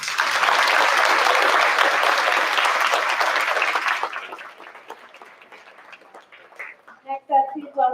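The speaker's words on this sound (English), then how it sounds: "Big round of applause." An audience at a school board meeting applauds steadily for about four seconds, then the clapping thins out and trails off as a few voices and scattered claps remain.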